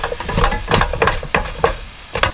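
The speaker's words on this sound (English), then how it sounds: "I feel I need to get a bit more extra sizzle on there." Food frying on a gas flame at a winter car campsite, with bursts of sizzle and stirring scrapes in an uneven rhythm, close and moderately loud, with no talking.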